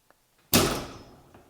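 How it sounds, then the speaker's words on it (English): A garage door released by its manual pull handle during a winter power outage swings open with one sudden loud rumbling thunk that trails off over a second, with faint knocks before and after. "now my garage door open"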